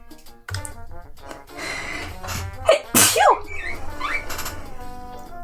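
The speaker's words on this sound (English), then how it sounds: "I'm gonna sneeze. That's what's gonna happen." A single sharp sneeze from someone editing a Minecraft texture pack at a computer, bursting loudly over soft background music and light keyboard clicks.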